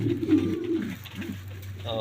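Pigeons cooing in a pigeon loft, low repeated throaty coos close by, with a brief human vocal sound in between.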